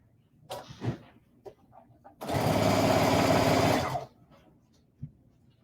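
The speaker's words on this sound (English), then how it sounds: "And then I'll sew the next square down." A sewing machine stitches a log cabin quilt square in a short loud run of rapid needle strokes lasting under two seconds, with faint handling clicks and small knocks before and after.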